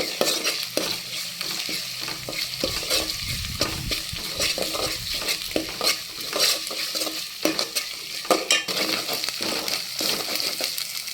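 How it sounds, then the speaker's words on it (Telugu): Ginger-garlic paste fries on a low flame for a prawn and tomato curry, giving a steady close sizzle with repeated spoon stirring and scraping against the pan and no talking. "అల్లం వెల్లుల్లి పేస్ట్ సిమ్లో పెట్టేసి వేయించండి"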